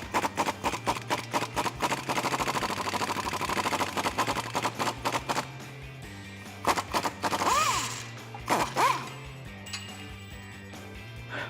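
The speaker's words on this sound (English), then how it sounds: "Grab an 18mm wrench to hold the nut side and a 15mm socket to get the bolt head." Metallic clinks and ratcheting clicks from an 18mm wrench and a 15mm socket working a cradle bolt loose on a 2011-2019 Dodge Challenger R/T, close up, in irregular bursts with a steady low hum underneath.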